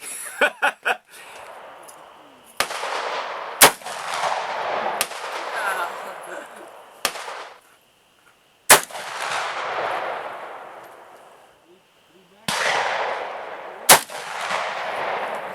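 Several heavy revolver shots from a Ruger Super Redhawk chambered in .454 Casull crack out loudly at irregular intervals, each followed by a long booming echo that rolls away outdoors.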